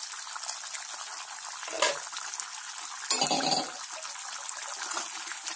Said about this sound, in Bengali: এইভাবে জলে তরকারি মাছটা ভালো করে ফুটতে হবে